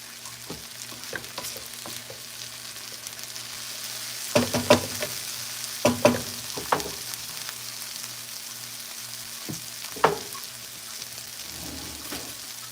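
Tomato, onion and serrano pepper fry in a pan with a steady low sizzle, broken by several sharper stirring clatters and spatters, close and moderately loud, with no talking.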